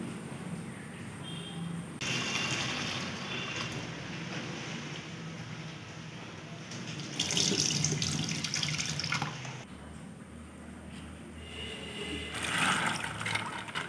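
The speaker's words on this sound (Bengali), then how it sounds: "জল পাল্টে পাল্টে" Tap water runs into a sink over soaked lentils being rinsed for motichoor laddu, a steady splashing flow with louder gushes as the water is changed, no voices.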